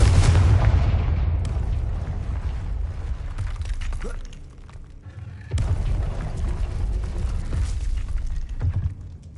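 Confringo blasting curse explosions in Hogwarts Legacy: deep booming bursts with rumbling low-end, a heavy blast at the start and another around the midpoint, each trailing into crackling debris over continuous game ambience.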